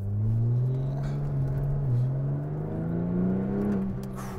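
A worn ex-Las Vegas rental Porsche 911 Turbo pulls away on a freezing day, its droning exhaust climbing in pitch as it accelerates, fairly quiet and steady from inside the car.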